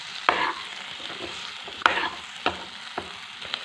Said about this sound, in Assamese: ঢালি পেলাই ধুনীয়াকৈ এইখিনি মিক্স কৰি ল'ম।